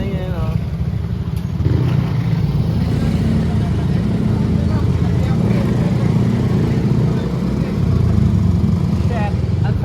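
Motorcycle engine droning steadily through dense, noisy city traffic near SPX, with surrounding car and engine rumble throughout and a rider talking over the constant roar.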